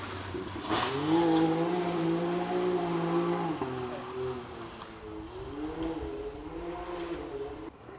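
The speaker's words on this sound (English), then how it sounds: "the suspension working perfectly and the Can-Am gliding over the bumps" A Can-Am buggy races flat out cross country through trees at a Bovington championship round, its engine holding a steady loud drone with rising and falling revs over bumps, close by.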